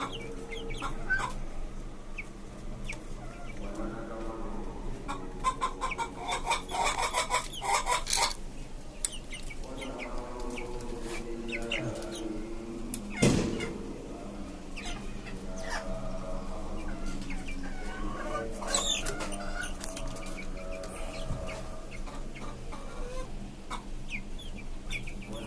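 Young tiger-breed desi chickens on a poultry farm cluck and call near and far in a steady, busy flock chorus, with scattered sharper squawks and a brief thump midway.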